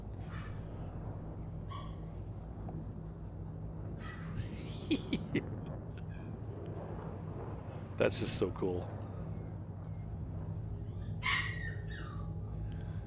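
Puppies bark in short yips and whimper now and then, with a louder cluster of barks partway through, heard under ongoing talk and the steady hum of a space game in Star Citizen.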